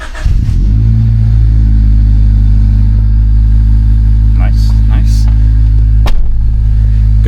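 An engine turns over and catches, then settles into a loud, steady idle with a deep rumble, followed by a brief rev near the end.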